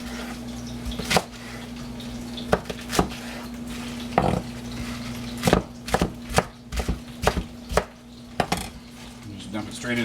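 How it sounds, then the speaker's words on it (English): A knife chops through Napa cabbage leaves on a cutting board in a string of crisp, irregular thunks, some in quick bursts, over a steady low kitchen hum. "we'll go ahead and cut up the Napa"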